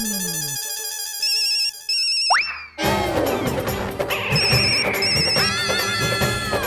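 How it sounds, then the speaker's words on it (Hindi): A telephone rings late at night in a quiet house, its electronic ringtone melody repeating loudly and close, broken by a brief springy boing-like effect midway, with no voices. "इतनी रात गए कौन फोन कर रहा है?"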